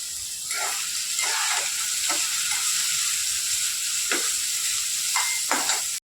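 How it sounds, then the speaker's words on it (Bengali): Ingredients for carton chicken fry lightly in a pan with a steady, close sizzle throughout, broken by a few brief stirring scrapes. "এটা হালকা করে একটু ভেজে নেবো"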